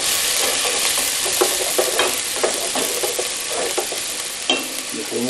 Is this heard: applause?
no